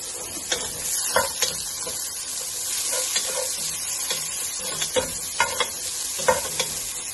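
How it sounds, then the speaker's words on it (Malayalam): Chopped onions crackle and sizzle in ghee while a spoon scrapes and stirs through them, the pan noise steady and fairly close. "സവാള അരിഞ്ഞിട്ട് കൊടുക്കുക."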